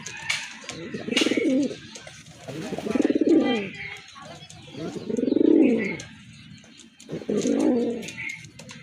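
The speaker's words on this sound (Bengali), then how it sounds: "আর একটা পেয়ার বড় পায়রার এটাও কিন্তু অনেক বড় সাইজের কবুতর" Large pigeons cooing close by in a repeated series of deep, rolling coos at a steady rhythm, with some faint background chatter between calls.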